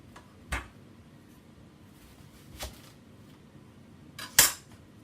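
A knife slices through a parsnip for soup, making three separate sharp cutting knocks on a board spaced a couple of seconds apart, the last one loudest, against a quiet kitchen background.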